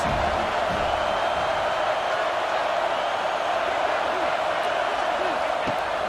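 Steady roar of a stadium crowd at a football game, a constant dense wash of noise that stays at one level throughout, with a commentator talking over it.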